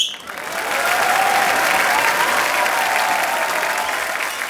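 Studio audience at a Kapil Sharma comedy show bursts into steady, loud applause with whistles for a guest's entrance, rising quickly and holding dense and full throughout.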